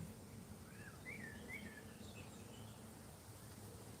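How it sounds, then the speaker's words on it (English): Faint birdsong drifts in from a distance, a few short warbling calls over a steady outdoor hiss of wind or background noise. "I hope the birds are nice. You can hear them from here."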